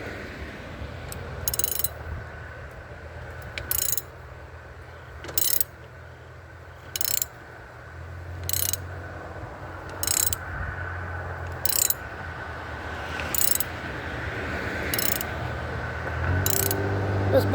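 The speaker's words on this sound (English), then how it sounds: "Then one of my modified 1/2 inch ratchets." A modified 1/2 inch ratchet clicks in regular bursts roughly every two seconds while turning a threaded fastener on a 2010 Chevrolet Aveo, close and moderately loud, with a low background hum between strokes.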